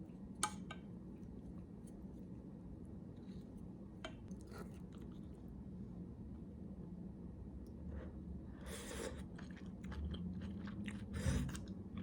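Someone chews a mouthful of stir-fried tofu kimchi with rice, soft close wet mastication and occasional crunches, with a few utensil clinks against a dish, and no talking.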